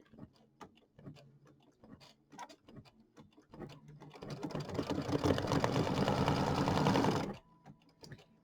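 Embroidery machine stitching a snowman's black eyes and smile on a January rectangle bench buddy, first a run of sparse ticking needle strikes, then a loud continuous whirring stitch burst for about three seconds before stopping abruptly.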